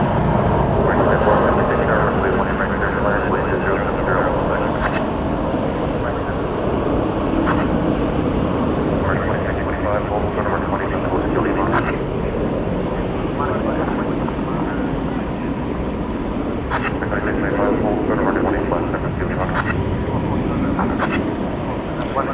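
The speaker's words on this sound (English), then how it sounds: "This Airbus A321 is going to Las Vegas." An Airbus A321 jet airliner at Dallas/Fort Worth Airport at night gives off a loud, steady, broadband roar that fills the whole stretch with little change.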